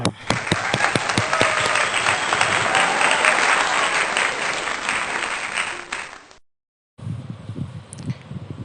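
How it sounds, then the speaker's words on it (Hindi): A congregation at a Sunday church service claps steadily for several seconds, loud and dense, then breaks off briefly before a short burst of clapping resumes. "तालियां।"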